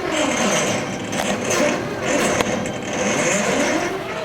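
A CNC plasma table runs through its cut paths, a steady close mechanical whir of the gantry motors that rises and falls in pitch as the head changes speed and direction.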